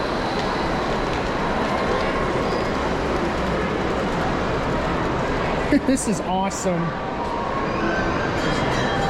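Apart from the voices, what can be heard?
model trains running at a toy train show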